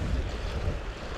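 Stiff side wind buffets the microphone on the coast while lure fishing for wrasse, a steady loud rumbling whoosh with surf noise mixed in and no voices.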